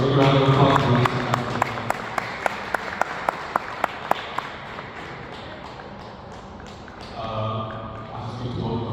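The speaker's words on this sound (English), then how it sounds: "And so we're going to round of applause for this." At a professionals' panel event, an audience gives brief, scattered applause, with a series of sharp, evenly spaced taps or thumps ringing out over the clapping before the sound fades and low voices return.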